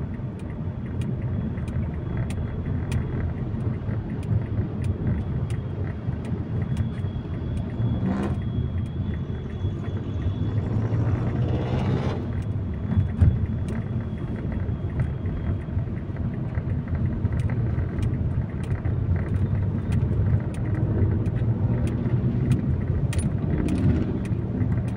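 Cars driving past on a city road in front of Quezon City Hall make a steady, continuous traffic rumble that stays fairly loud and even throughout, with no talking.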